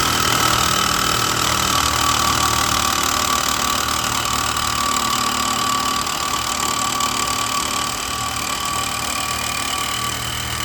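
A power saw fitted with a Diablo carbide blade cuts through steel rebar, a steady loud high-pitched grinding whine that runs continuously with a harsh metallic edge and no pauses.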